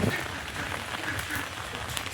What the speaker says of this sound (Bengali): ভিজে যাবো আর অনেক বেশি পানি পড়ছে